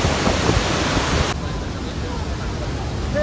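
Water rushes through the opened gates of Bargi Dam in a loud, constant roar like a heavy waterfall, steady throughout with a slight drop in level partway, with voices talking.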